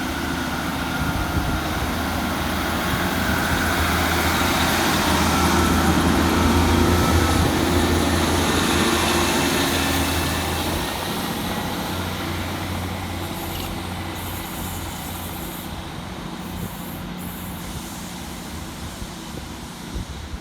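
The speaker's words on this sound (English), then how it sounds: "Next up to depart for the station is 150213, working the 1512 Transport for Wales service from Treherbert through to Cardiff" Class 150 diesel unit 150213 on a Transport for Wales Valley Line service at Cardiff Queen Street, a steady low diesel engine drone that swells and then slowly fades over about twenty seconds, with no talk.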